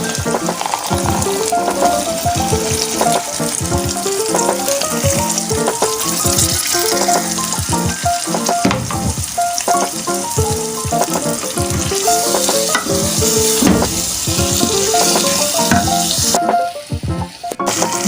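Boiled lobia beans go into hot oil and sizzle loudly and steadily, with repeated scraping and clattering of a spoon stirring the pan close up.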